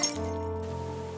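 A glass bottle strikes someone, giving a sharp bright clink at the start followed by a lingering ringing tone that slowly fades.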